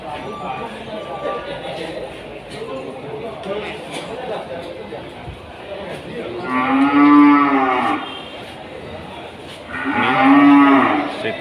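Cattle moo twice, loud and drawn out, over a busy background of murmuring voices and general bustle at the Kliwon cattle market in Kudus, Indonesia.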